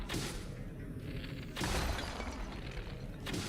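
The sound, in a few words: shattering sound from video game Zelda Tears of the Kingdom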